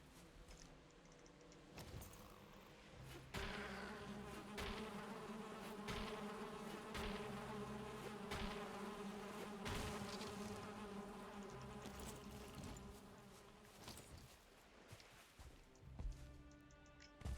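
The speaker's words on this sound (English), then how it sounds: "Oh, more bees." Bees buzz steadily in a video game set around a small stone area, a continuous droning hum that holds throughout alongside game sounds.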